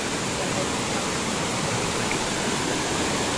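Kumbh Pani waterfall in Gariyaband pours with a steady, dense roar of rushing water, loud and close, unbroken from start to finish with no talk over it.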